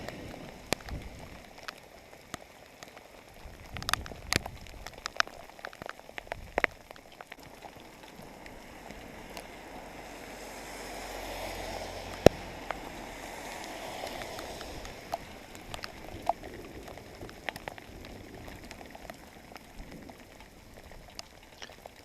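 Heavy rain pouring down outdoors during a motorcycle ride on a Panther Villers Model 35, a steady dense hiss of falling water with scattered sharp drips and splashes, swelling a little midway, with no voices.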